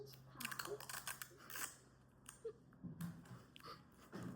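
Scissors snip through adhesive tape in a few short, crisp cuts close by, with faint rustling in between and a low steady hum underneath.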